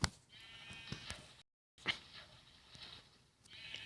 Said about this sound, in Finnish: Täällä on lammas.